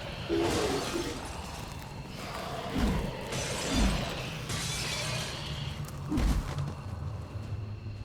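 Glass shatters in the XCOM 2 video game, a loud crashing break with scattered debris and several heavy thuds, like footsteps or impacts, over a constant broad game noise.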